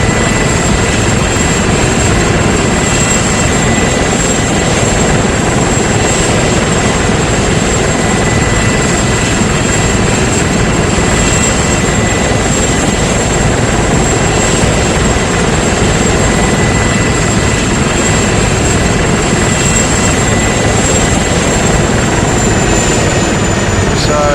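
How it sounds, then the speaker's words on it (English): Steady, loud video game helicopter rotor and engine drone throughout as it lands, a continuous heavy whir with no talking. "I'm just going to put the chopper down for a moment"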